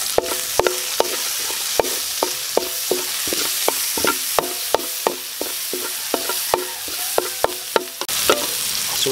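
Garlic, ginger and onion sauté in a pan for chicken pares, a steady sizzle punctuated by rapid, regular clinks and scrapes of a spatula against the metal.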